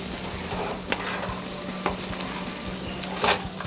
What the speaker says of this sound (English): A quick stir.